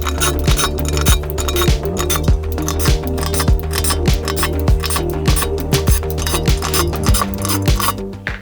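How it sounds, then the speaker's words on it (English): Unscrewing the bolts on a Jupiter resin printer vat makes loud, close metallic clinks and ticks in a steady, repeated rhythm over a constant background hum. "let's start unscrewing"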